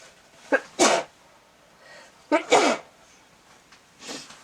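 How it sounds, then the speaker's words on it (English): Two sharp sneezes, each with a quick breathy intake first, sound about two seconds apart, followed by a fainter third burst, close and fairly quiet. "I'm going to sneeze."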